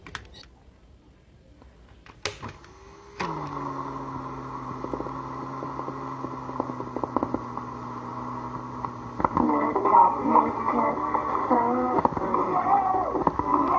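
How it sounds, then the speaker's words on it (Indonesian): A DIY mechanical cassette tape player starts playing a tape after a few clicks, settling into a steady motor hum with faint, wavering playback sound that grows slightly busier toward the end. "Oke, kaset yang satunya lagi kita putar."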